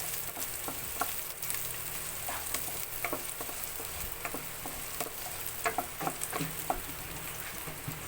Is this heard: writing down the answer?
no